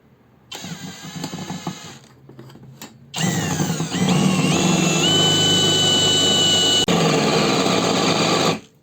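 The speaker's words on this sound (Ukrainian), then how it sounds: "Зараз ми спробуємо просверлити." A Ronix 8900K brushless impact drill bores into brick with a 16 mm bit, whining in short bursts and then running in one long loud high-pitched drone with a shifting tone before cutting off.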